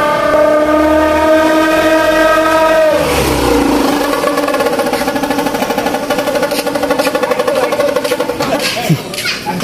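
Improvised horn blown to celebrate New Year's Eve, a loud sustained tonal blare with strong harmonics that bends down in pitch after a few seconds and then continues roughly and steadily.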